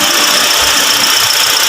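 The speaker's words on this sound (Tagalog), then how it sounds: "Itong makina ni Toyota Vios, parang yan, Toyota Vios na dual VVTi." A Toyota Vios with a dual VVT-i engine idles steadily up close, giving a constant loud hum and whir with a faint low throb and no change in pace, with no talk over it.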